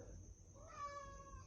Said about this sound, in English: The cat right there.